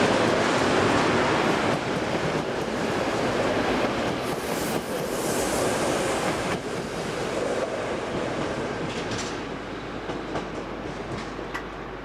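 An electric locomotive hauls a train along a Luxembourg railway line near Bettembourg Yard, a steady rushing rumble of wheels and traction noise with faint clicks from the rails, fading slightly toward the end.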